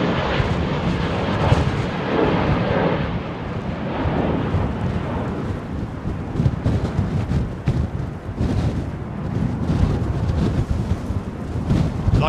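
Loud, close roar of an Airbus A350 jet departing runway 27R at Heathrow, a broad rumbling thunder of engines that holds steady and dense throughout with no voices.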